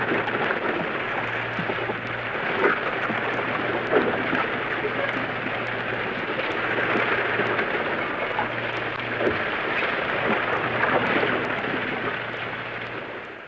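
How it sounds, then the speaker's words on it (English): Steady, roaring wash of Pacific Ocean surf off the California coast, a continuous broadband rush of breaking waves at constant loudness with no talk over it. "This is the sound of the Pacific off the California coast."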